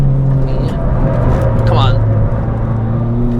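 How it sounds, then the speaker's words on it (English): A budget car under £5,000 lapping the Nürburgring drones loudly and steadily from inside the cabin, its engine tone dipping and lifting slightly with the shifts, while someone briefly speaks over it. "Bit on the brakes, on the gas here to settle the car. Now downshift."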